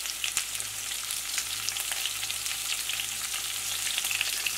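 Ginger, onion and green chillies frying in a pan for a potato curry, a dense steady crackling sizzle with faint stirring, heard close and alone.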